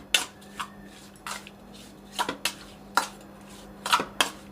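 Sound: mixing salt into mandeli fish in a dish

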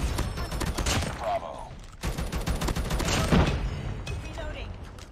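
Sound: gunfire in a video game

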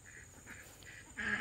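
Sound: ducks quacking

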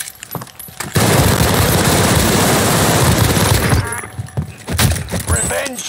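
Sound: gunfire from the video game Call of Duty

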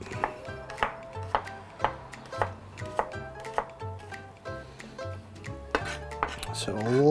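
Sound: mincing garlic cloves with a knife

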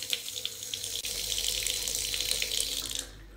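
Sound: running water from a bathroom tap

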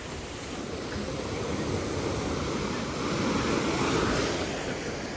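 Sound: sea waves on the shore in Odesa

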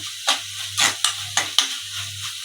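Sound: garlic-ginger paste frying in a pan with octopus masala

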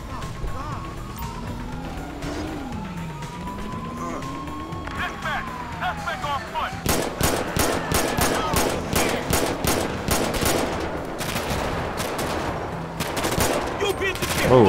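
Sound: gunfire in the video game GTA 5

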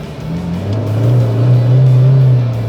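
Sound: car revving as accelerator pressed, TORQUE AIR throttle controller

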